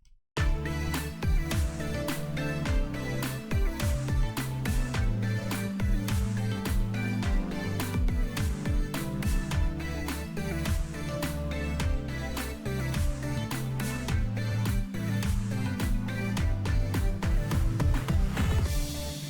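A music track built from Discord notification and call sounds, with dense rhythmic beats and layered tonal chimes running steadily and fairly loud throughout, no speech.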